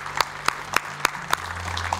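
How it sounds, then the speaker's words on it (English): Members of a church congregation clap in a sparse run of about five distinct, evenly spaced hand claps over a low room hum. "can we give them a round of applause?"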